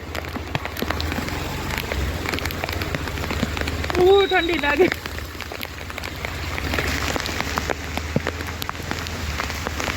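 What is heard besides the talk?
heavy rain pouring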